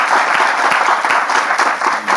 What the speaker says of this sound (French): Public, on peut encore s'applaudir bien fort